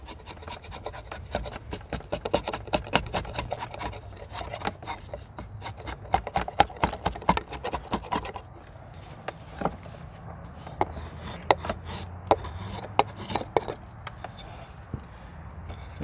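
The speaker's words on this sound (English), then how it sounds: "The draw knife is only a rough out tool for me for this process." A drawknife roughing out wood cuts in quick, rhythmic rasping strokes, close and crisp. The strokes come in a steady run, pause, then continue more sparsely, with faint shop noise underneath.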